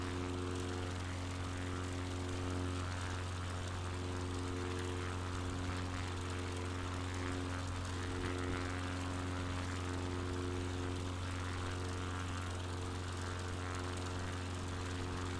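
A propeller aircraft engine holds a steady, even drone at half throttle in Microsoft Flight Simulator 2020, a constant hum with no change in pitch or level throughout.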